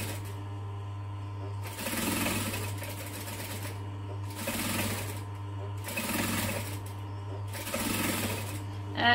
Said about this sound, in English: it's going to make it easier to stitch them down